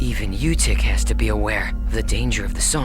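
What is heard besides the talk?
No everyday noise stands out behind the speech.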